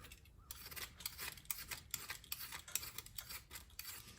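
Old grip material is scraped off a golf club shaft with quick, repeated rasping strokes, a soft, close scratching rhythm heard alone at low volume.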